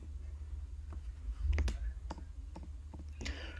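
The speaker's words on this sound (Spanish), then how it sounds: "le doy clic con el botón derecho" Soft computer mouse clicks, including a right-click on a microcontroller simulator program, sound as a few faint, sharp taps over a low background hum in a quiet room.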